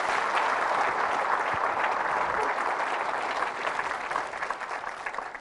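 A church congregation breaks into loud, sustained applause during a Catholic priest's sermon, a dense steady clatter of many hands that fills the whole stretch and tapers slightly toward the end.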